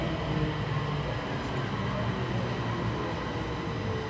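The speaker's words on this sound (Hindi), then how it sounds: "A train is approaching the station." A train approaching a station gives a steady, dense rumble and rolling noise throughout, fairly loud and close, with faint voices beneath it.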